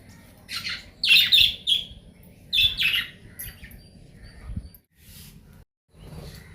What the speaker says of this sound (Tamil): இதான் நம்ம வீட்டில் லவ் பேர்ட்ஸ் எப்படி இருக்குன்னு பாருங்கள்